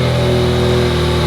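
A wrecked BMW X3 M Competition engine, with bridged oil cooler and fresh oil, fires up for the first time, a loud, close, steady running drone that cuts off abruptly at the end.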